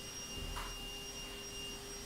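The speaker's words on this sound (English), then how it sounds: "Oh wait, that's not the hair dryer. That's the vacuum." A household vacuum cleaner runs steadily as a faint, distant drone with a thin whine riding on top, with no voices over it.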